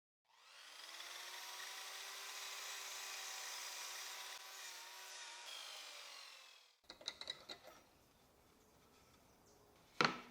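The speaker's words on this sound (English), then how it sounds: "I've set the miter saw to a 45-degree angle, and with it, I'll cut one of the corners." A miter saw set to 45 degrees cuts through the corner of a wooden piece in one sustained, loud whine lasting several seconds, then winds down into clattering handling noises and a sharp knock.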